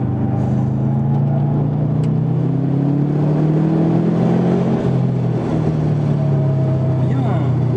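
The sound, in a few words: Subaru Impreza engine driving on a race circuit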